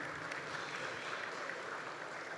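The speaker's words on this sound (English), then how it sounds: "Once again, a round of applause for Dr. Antoine." Audience applause at a food and beverage expo event, a steady dense patter of clapping heard faintly and evenly throughout, without voices.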